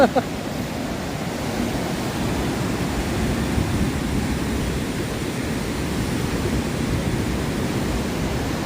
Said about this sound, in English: love the sound of the river.